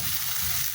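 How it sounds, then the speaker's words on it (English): Green capsicum frying in a stew, a steady close sizzle with a soft stirring texture throughout the brief moment. "Then you can go in with the capsicum, green capsicum."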